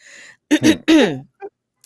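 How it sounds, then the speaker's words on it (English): A throaty cough and rough throat clearing in quick bursts, close by, followed by a short grunt. "That made me do like the smoker's cough just then."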